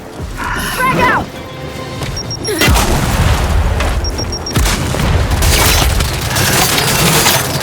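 Frag grenade blasts in the Gears 5 video game, a loud booming explosion around the middle followed by a second heavy blast, with rumbling debris and battle noise, as voices shout over the combat.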